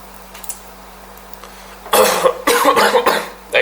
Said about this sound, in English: That makes me cough.